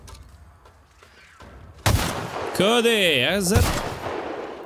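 A support gun fires in The Outer Worlds video game: a sudden loud blast, then a warbling, pulsing weapon tone, with someone speaking briefly just before.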